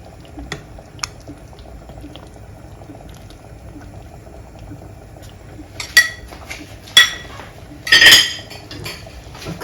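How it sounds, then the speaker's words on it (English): Chicken light soup simmers and bubbles in a pot under quiet stirring, with a few sharp metal clinks of a utensil against the pot near the end as the okra is lifted out. "And I'll go ahead and remove my okra from the soup."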